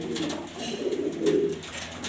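A female pigeon coos close up, a low, rolling, throaty murmur in two or three swelling phrases, with faint background noise.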